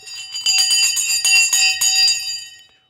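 Electric bell ringing loudly and continuously for about two seconds, a bright metallic clangour that fades out at the end, heard alone without talk.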